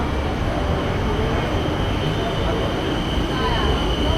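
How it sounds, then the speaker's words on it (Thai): A train pulls into a station, its steady rumble and rail noise loud and continuous throughout, with faint crowd voices in the background. "อตอนนี้รถไฟ ก็มาแล้วทุกคน"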